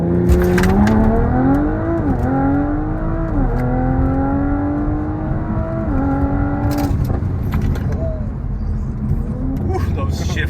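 An Audi RS5 Stage 2 tuned car accelerates hard from inside the cabin, its engine climbing in pitch and dropping at several quick gear shifts, loud and continuous, then easing off toward the end.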